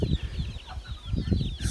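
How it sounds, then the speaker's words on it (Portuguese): A hen with her chicks clucks close by at a rural family smallholding, giving a run of short, repeated clucks with faint higher peeps over them. "Essa galinha foi a que tá com os pintinhos quase morrendo ontem"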